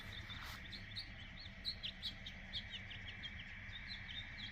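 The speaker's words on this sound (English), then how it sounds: "My tree sparrows are back." Tree sparrows chirp in a steady scatter of short, high calls against a quiet outdoor background, some notes near and others farther off, near a pasture with a thornless honey locust.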